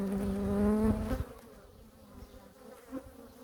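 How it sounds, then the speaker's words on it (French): Honeybees buzz loudly right up close around a person at a hive, a dense droning hum that fades a little as the insects move around. "je crois que tu es entourée d'abeilles"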